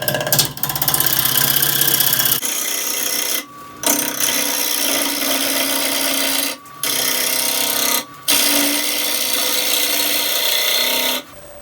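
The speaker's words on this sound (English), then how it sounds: "the lathe is set at about 1200 RPM" Wood lathe running at about 1200 RPM while a swept back grind gouge turns a chip and dip platter blank, giving a loud, continuous scraping hiss of tool on wood, cut by several short pauses.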